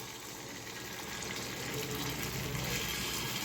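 Sweet potato paniyaram batter is poured into the hollows of a paniyaram pan, giving a steady, continuous wet pouring hiss throughout with no talking.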